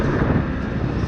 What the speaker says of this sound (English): I'll give it a little bit more gas